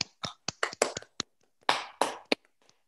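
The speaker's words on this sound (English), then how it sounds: "so we can offer some applause to all of the speakers for about 15 seconds" Scattered claps come from a remote audience over a video call, sparse and uneven taps and hand claps arriving in irregular clusters with short silent gaps, thin and compressed as if through separate microphones.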